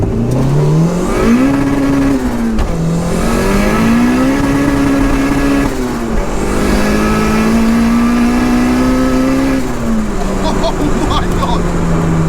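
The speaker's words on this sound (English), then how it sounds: "First gear pull on this bad boy now." A 370bhp VTEC turbo Mini pulls hard in first gear, its engine note climbing in a loud, close rising drone with brief dips as it revs, while people shout and talk excitedly over it.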